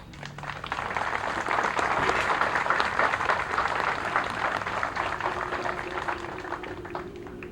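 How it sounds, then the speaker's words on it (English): A crowd at a Memorial Day parade in Attleboro applauds the Coastline Show Chorus. The clapping rises quickly, holds as a dense, even patter for several seconds, then thins slightly, heard from the middle of an outdoor crowd. "Please join me in a round of applause for Attleboro's own Coastline Show Chorus."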